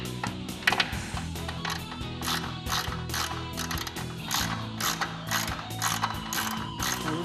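A ratchet wrench tightens bolts on a JLG LiftPod, rapid clicking in quick repeated bursts, close and loud, running continuously with no talk.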